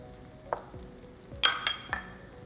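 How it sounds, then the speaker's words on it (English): Onions sauté in a pan over medium heat, with soft sizzling broken by a few sharp clanks and scrapes of stirring against the pan. "Okay, so we're going to put in the onions."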